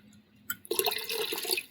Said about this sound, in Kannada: 2 ಚರಿಗೆ ಹಾಕೊಂಡ್ರಿ. ನೀರು ಜಾಸ್ತಿ ಬೇಕ್ರಿ ಇವಕ್ಕೆ.